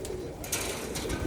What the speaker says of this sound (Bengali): অসংখ্য কবুতর মাশাআল্লাহ।